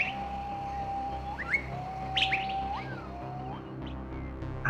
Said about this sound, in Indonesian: Sesekali terdengar jelas suara burung emprit kantil yang mondar-mandir di atas rumah.